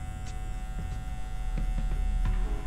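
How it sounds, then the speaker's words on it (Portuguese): A new electric hair clipper running at its middle lever setting during a barbershop fade, giving a close, continuous steady buzz with a few faint clicks and knocks over it, no talking. "Só que essa maquininha, como ela é nova, eu vou usar aqui no intermediário."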